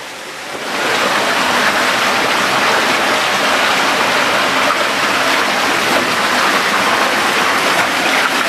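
Steady, loud rush of water flowing through a cave in the Czech Republic, filling the space, constant and close, with no voices.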